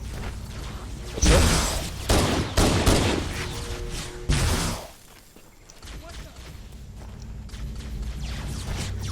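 Sniper rifle shots in the video game Halo crack loudly in a handful of heavy, spaced blasts, mixed with mechanical reload clicks and footsteps, before the action quiets to a low rumble.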